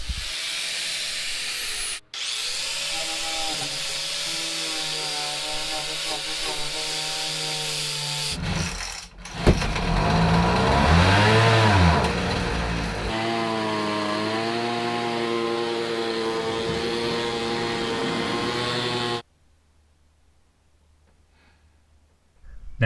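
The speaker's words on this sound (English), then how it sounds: "The goal is to grind any rust down to bare metal." Power tool grinding rust off a Chevy Astro van body down to bare metal, a loud sustained whine and roar with pitch shifts as the tool loads against the panel, stopping abruptly near the end.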